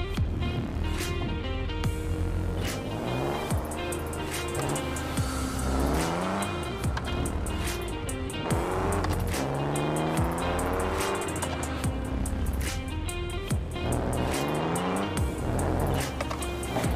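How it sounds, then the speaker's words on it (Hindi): A Ram 1000 TRX pickup truck's engine in the Car Parking Multiplayer game, revving and climbing repeatedly during off-road driving, loud and close with tire noise and a steady engine drone throughout. "इस बार हम ऑफ रोडिंग करेंगे विद रैम 1000 TRX के साथ"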